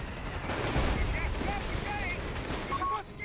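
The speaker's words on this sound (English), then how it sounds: "Heavy machine gun" A heavy machine gun rattles in Company of Heroes 3, steady dense firing through the whole stretch beneath a commentator's continuous talk.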